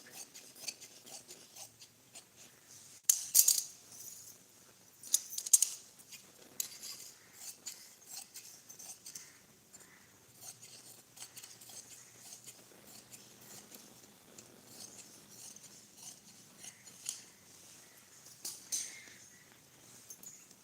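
Scissors cut through blouse fabric in quiet, intermittent snips and rustles, with a couple of louder crisp cuts early on, close and faint, with no talk.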